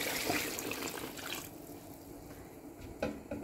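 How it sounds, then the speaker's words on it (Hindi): Water poured into a pot of mutton being cooked for Peshawari namkeen gosht, about one and a half litres added; a steady splashing pour fills the first second and a half, then settles into a quieter trickle with a brief splash near the end. "पानी इसमें इतना ही डालना है जिसमें गोश्त अच्छे से गल जाए। वन एंड हाफ लीटर पानी ऐड कर रही हूँ।"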